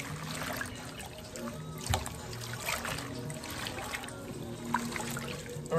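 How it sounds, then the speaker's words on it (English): Leafy greens are rinsed in a sink in a vinegar-and-water solution, with steady trickling and sloshing water throughout and occasional louder splashes, close by and without talk. "Rinse it out the sink and add in more vinegar and water"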